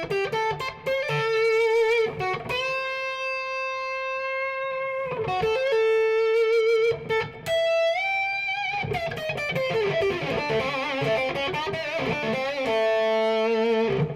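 Electric guitar with gain, played on the number 2 pickup selection, rings out in sustained distorted chords and bending notes, loud and close, with no talking.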